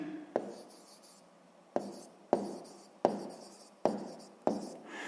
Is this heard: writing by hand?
yes